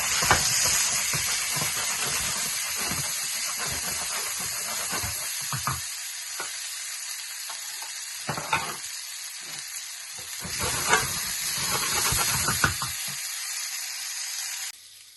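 Potatoes frying in hot oil in a home kitchen, a steady broadband sizzle close by, broken by intermittent stirring scrapes and bursts of crackle before the hiss fades out.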